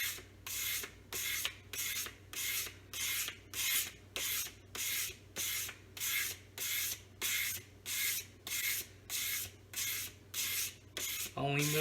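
A Bark River Santos knife gets a convex edge sharpened with a long series of even, rhythmic abrasive strokes. Each rasping pass lasts about half a second, with short pauses between them. The strokes are close and steady throughout.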